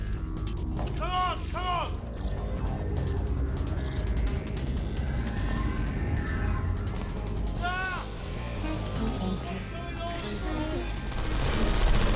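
Turrets firing in Portal 2: rapid, continuous bursts of mechanical gunfire under synthetic voices and game noise, steady and fairly loud throughout.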